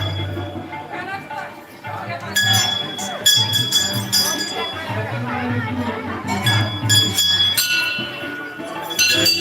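Temple bells clanging repeatedly at the Maa Bamleshwari temple in Dongargarh, bright metallic rings in irregular bursts over a dense, loud crowd of chattering devotees.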